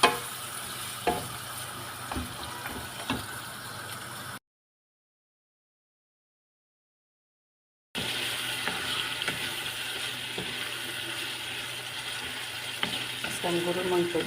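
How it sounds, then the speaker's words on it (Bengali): Green peas cook in a pan, giving a soft, fairly quiet sizzle with a spoon scraping and stirring through them, interrupted by a few seconds of silence. "মটরশুঁটিটাকেও ভালোভাবে রান্না করে নেব"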